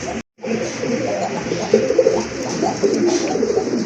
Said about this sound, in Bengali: মাশাআল্লাহ আরেক জোড়া কবুতর, গিরিবাজ কবুতর, সিলভার টাইপের, সিলভার কালারের ভিতরে খুবই চমৎকার এক জোড়া কবুতর।